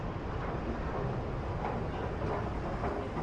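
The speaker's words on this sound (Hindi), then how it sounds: "भाई साहब ये जो है ये तेहरान का मेट्रो स्टेशन है" Steady broadband rumble of a metro train at a Tehran metro station, a continuous loud roar of wheels and motor with no pauses and no voices.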